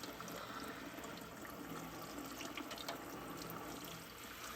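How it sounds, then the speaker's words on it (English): A kitchen sink tap runs steadily while a leek is rinsed under it, a constant soft wash of flowing water with no pauses. "Always rinse the sand out of the leeks."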